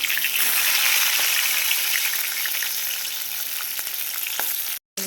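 Fish chops that have just been flipped sizzle in hot oil, a loud, continuous close-up hiss with faint crackles that cuts out abruptly near the end.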